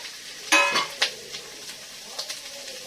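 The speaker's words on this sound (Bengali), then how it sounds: "মশলাগুলো ভেজে নি" Whole spices, cinnamon and cardamom among them, fry in a pan with soft oil sizzle. Clinks and scrapes of a spoon against the metal rise at intervals above the sizzle.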